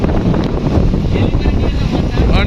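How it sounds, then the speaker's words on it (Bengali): Strong storm wind sweeps through an emptied town street in Faridpur during heavy rain, a loud, continuous roaring rush that buffets the microphone. "অনেক বেশি পরিমাণ বাতাস হচ্ছে"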